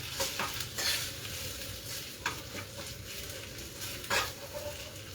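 Spices being stirred and fried in a pan, with pav bhaji masala and dry coriander seeds mixed in: a steady close sizzle runs throughout, broken by several sharp scraping stirs of the spoon against the pan.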